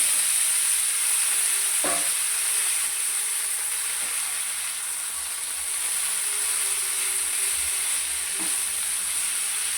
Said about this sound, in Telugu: ఇప్పుడు ఈ ఆయిల్లోనే బీరకాయ పచ్చి వేసుకుందాం